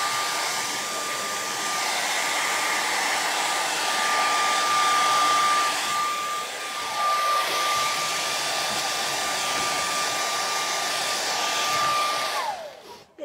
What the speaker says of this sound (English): So I'm going to hit this with a blow dryer.